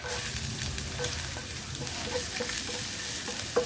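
Adobong kangkong with chicken is stirred in a pan, giving a continuous close sizzle broken by light scraping and clicking of the utensil at an uneven pace.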